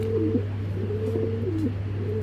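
Big-sized racer pigeons coo in low, rolling bursts over a steady low hum, close and moderately loud, with no voices.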